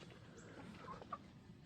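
A frizzle rooster, black with a red neck, gives a few faint, scattered clucks over a low, steady background hum.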